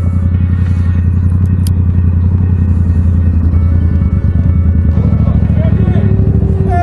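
A motorcycle rumbles steadily while being ridden, a loud, close, continuous low engine drone with a constant throbbing pulse, while the rider talks over it.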